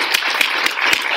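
Audience applause thanking panelists at an eighth grade forum, a close, fairly loud burst of clapping with several sharp claps standing out in a regular rhythm over the steady patter, no talking.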